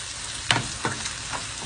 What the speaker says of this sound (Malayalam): സവാള ഒന്ന് വഴറ്റിയിട്ടേ ഉള്ളൂ